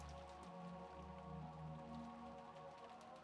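Steady rain falls and patters on surfaces with occasional drips in the video game Umineko When They Cry, a faint, continuous wash with no voices.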